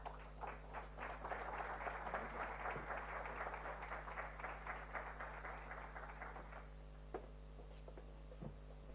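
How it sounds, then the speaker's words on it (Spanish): Audience applause at a national ceremonial and protocol congress in Argentina, a dense crowd of clapping hands sustained for several seconds at moderate distance, then thinning to a few scattered claps with a steady hum underneath. "a quien pido un fuerte aplauso"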